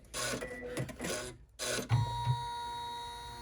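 An embroidery machine stitches placement marks for D-ring strap connectors on a sling backpack in the hoop, a close, rhythmic mechanical whirring and tapping with brief pauses and a steady hum.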